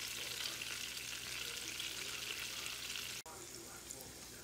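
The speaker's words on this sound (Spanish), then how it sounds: "Vamos a hacer el sofrito de cebolla y ajo." Onion and garlic fry in hot oil for a sofrito base for seafood paella, a dense steady sizzle close to the listener with a brief dip near the end before it resumes, no talking.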